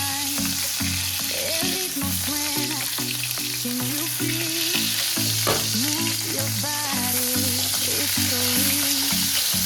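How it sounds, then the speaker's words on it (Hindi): Pork meat frying in its own rendered fat in a pan with no added oil, giving a steady, close crackling sizzle throughout along with some stirring; a tonal melodic sound plays faintly underneath. "अभी पक रहे हैं। अब तेल नहीं डालना इसका"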